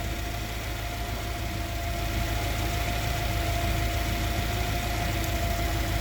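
A car engine idles steadily after an oxygen sensor check on an engine that ran lean at idle, a continuous close rumble with a faint whine and no pauses or talking.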